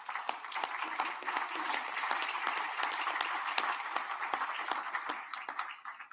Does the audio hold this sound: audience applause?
yes